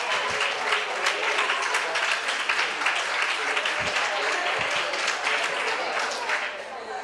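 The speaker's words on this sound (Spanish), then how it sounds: "Muy bien, un aplauso." An audience at a Spanish-language talk on promoting reading applauds: continuous, dense clapping from many people, loud and even throughout, easing off only at the very end.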